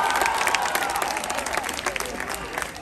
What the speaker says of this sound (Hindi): यहाँ पर तालियां भी बज रही है, सीटी भी बज रहा है